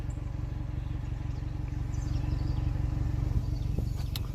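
A deep, steady rumble of an upgraded exhaust on a 2021 BMW 330i idling, with a throaty low pulsing that holds constant throughout.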